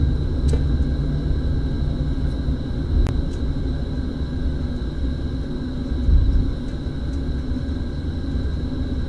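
Boeing 777-200LR engines spool up in a full cockpit flight simulator, a steady low rumble and hum with a faint whine that holds evenly throughout, swelling slightly near the end.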